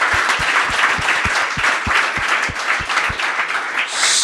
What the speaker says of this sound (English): Please a round of applause to you guys.